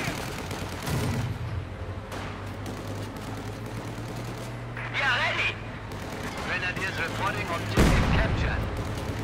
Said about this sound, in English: More mortar fire.